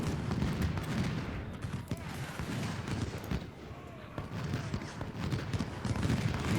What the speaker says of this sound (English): Keep firing, boys.